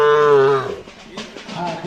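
A Kajali Khillar cow, large and bull-like, moos once at a cattle show, a loud drawn-out low call that fades after about a second into quieter background noise.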